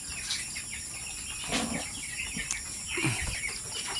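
Young chickens near the end of the brooding stage, about two weeks old, cluck and chirp in short scattered bursts over a steady background hum, fairly close but not loud.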